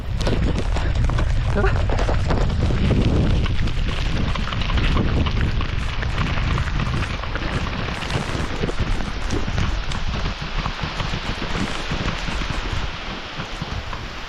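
Heavy rain pours steadily outdoors at a hillside place, a loud, dense, unbroken wash with rumbling low noise like wind against the microphone throughout.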